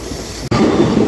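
The Machilipatnam Express passenger train runs on the rails at night, a loud, close rumble of wheels and carriage noise that drops out for a split second and then resumes.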